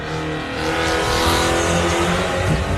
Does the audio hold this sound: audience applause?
no